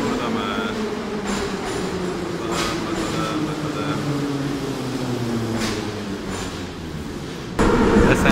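A Kiev metro train rolls into an underground station with a loud steady rumble and rising whine of wheels on rails, a sharp clunk near the end as it stops, no talking.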